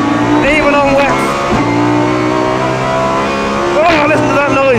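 Unsilenced V10 of a Lamborghini Huracan GT3 race car on a wet track, loud and close, with steady high revs, rising and falling harmonics and a sharp gear change or lift near the middle, continuous throughout.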